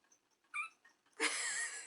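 A young cat gives a short meow, then a longer, louder drawn-out yowl, close by with no talking.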